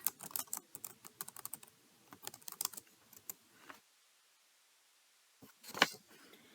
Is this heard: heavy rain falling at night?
no